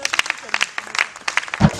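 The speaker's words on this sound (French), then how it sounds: "Sous vos applaudissements." Audience applause at an evening awards ceremony at the Palm Beach as a platform president is called to the podium. Scattered claps mix under a speaking voice over a short stretch.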